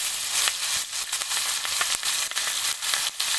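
Chopped onion hits hot mustard oil left over from frying fish and sizzles steadily and briskly. Light stirring scrapes cut in now and then.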